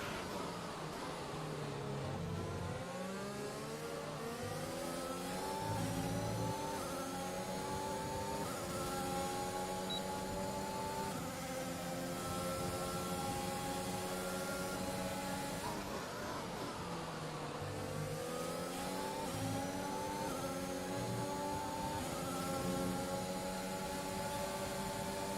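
An F1 car engine in the BBC F1 video game howls through repeated rising gear pulls, a steady high-pitched whine that climbs, drops at shifts and climbs again, loud and continuous throughout.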